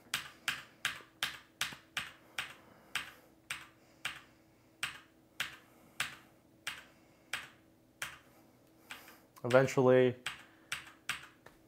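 Steady, evenly spaced presses of a keyboard's delete key repeat about every half second to enter a BIOS, crisp taps, with a brief spoken word near the end.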